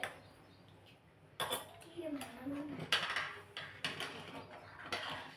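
Rice and water being stirred in a metal cooking pot for masala bhat: quiet, irregular scraping and clanking strokes of a spoon against the pot, with a voice speaking faintly in between.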